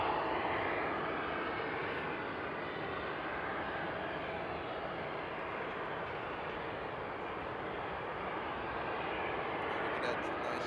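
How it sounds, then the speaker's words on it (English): Embraer E190 jet engines at Frankfurt Airport at night give a steady, broad roar that holds evenly throughout, heard from a moderate distance. "Look at that nice E190 from Air Dolomiti."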